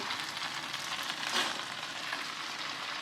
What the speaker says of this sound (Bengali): এটা এরকম করে মিশাতে হবে এটা সবজির সঙ্গে মিশতে চায় না এই জন্য একটা কাঁটা চামচের সাহায্যে এরকম করে